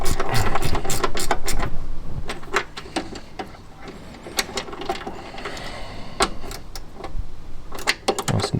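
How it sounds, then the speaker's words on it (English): A ratchet spanner tightens 10mm bolts while a classic Fiat 500 engine is refitted, giving bursts of sharp, rapid metallic clicks close by, with short pauses between runs of strokes. "using a ratchet spanner for this"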